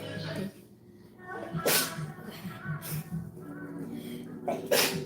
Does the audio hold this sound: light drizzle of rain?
no